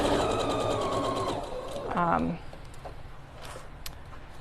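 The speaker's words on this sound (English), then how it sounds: "I'm just going to baste the pocket on at about 1/4 inch" A sewing machine bastes a pocket onto a reading book pillow at a quarter-inch seam, running steadily and loud for about two seconds, then slowing with a pitch sweep and stopping into quiet room noise.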